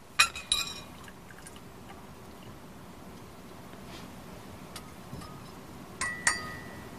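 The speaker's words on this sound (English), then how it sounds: "please pour yourself a cup of the tea marked B." Tea pours from a teapot into a cup at close range, a steady faint liquid stream framed by bright clinks of china at the start and again near the end.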